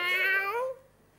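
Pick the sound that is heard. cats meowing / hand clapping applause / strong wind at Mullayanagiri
cats meowing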